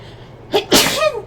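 A single loud sneeze at close range, a short sharp intake followed by a bursting release, no talk over it.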